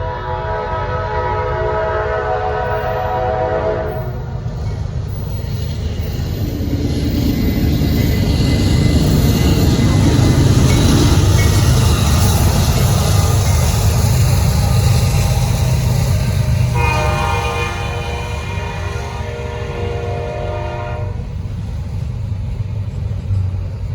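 A heavy Norfolk Southern freight train rumbles past up close, a steady low roar of rolling wagons and engine that swells in the middle and stays loud throughout.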